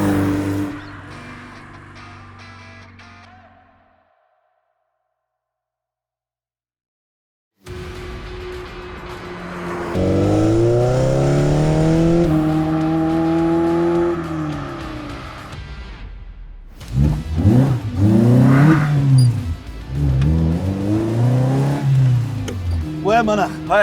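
An original Series One Lotus Elise sports car with a 120-horsepower engine, driven on a slippery wet road, revs hard after a brief silence, its engine note climbing and falling through repeated loud up-and-down sweeps.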